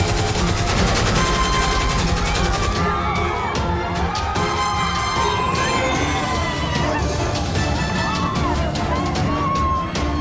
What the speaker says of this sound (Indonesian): Mendengar suara tembakan beruntun ini